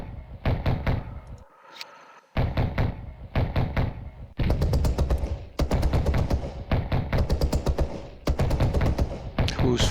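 Repeated bursts of gunfire in the wargame Battle Group Commander, loud rapid volleys and rattling strings of shots separated by brief pauses, one short quiet gap near the start.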